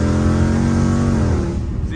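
A car drifts sideways on a rain-soaked road, its engine roaring loudly and steadily for two seconds with revs holding high, then starting to fade.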